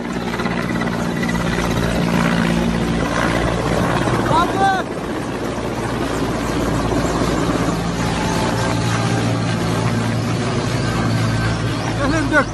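Helicopter playing from a TikTok video, a loud continuous rotor thrum under someone talking and exclaiming throughout, with brief higher chirps partway through.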